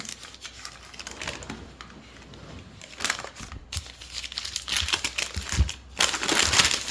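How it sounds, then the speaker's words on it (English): A package of lard is unwrapped up close, its wrapper crinkling and crackling in quick irregular bursts that grow louder toward the end, with no talking. "I'm going to open my package of lard. Okay, unwrap it."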